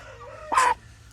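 A short Java rooster call bursts out once, loud and close, over a low steady hum, then fades back to quiet.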